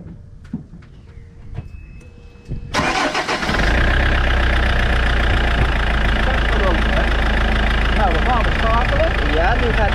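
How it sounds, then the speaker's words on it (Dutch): A vehicle engine cranks and catches partway in, then runs steadily and loudly, the low rumble filling the rest of the clip while people talk over it. "Dus wat we nu gaan doen, is ga ik de motor starten."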